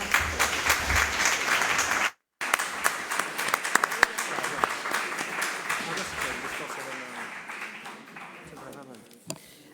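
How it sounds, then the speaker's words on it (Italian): Applause from a crowd at a political assembly for the 2024 Sardinian elections, a dense sustained clapping that briefly cuts out, then continues and gradually fades, with a voice speaking over it. "L'applauso può partire, facciamocelo."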